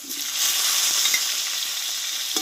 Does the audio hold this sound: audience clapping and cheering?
no